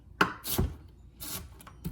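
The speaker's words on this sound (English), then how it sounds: "Did a couple slices of onion." A knife slicing through onion on a cutting board, a few crisp chops in an irregular rhythm with short gaps between strokes, close and moderately quiet, no talk.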